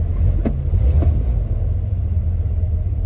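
A Plymouth Fury car engine stalls and cranks, giving a steady low rumble throughout with two brief sharper clicks or catches near the start, close and fairly loud, with no talk.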